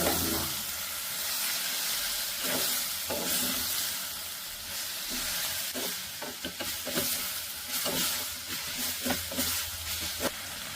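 Tempered spinach and potato fry in a pan, giving a loud continuous hiss and sizzle with repeated scraping, clattering stirs that come in bursts, faster toward the end.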